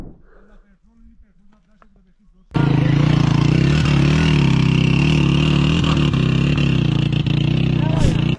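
Motorbike engine revving hard under load as it climbs a steep mountain trail in North Waziristan, a loud, steady, close drone that kicks in suddenly after a quieter stretch and holds to the end.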